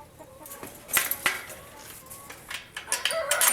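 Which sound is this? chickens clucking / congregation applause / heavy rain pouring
chickens clucking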